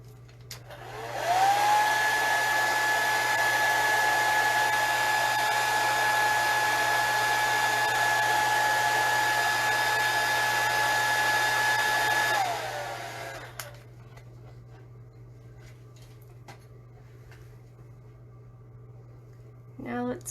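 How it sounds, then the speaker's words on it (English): A hair dryer blasts air onto wet paint on a painting, a loud steady whine starting abruptly, holding for about eleven seconds, then cutting off and spinning down into quiet room tone. "give this a little blast of air, so here we go with the hairdryer"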